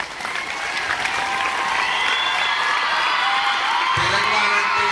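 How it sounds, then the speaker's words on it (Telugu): Loud, sustained applause from a school crowd at a Bonalu festival celebration, with scattered cheers and whoops over a dense wash of clapping that holds steady to the end. "ఒకసారి గట్టిగా చప్పట్లతో"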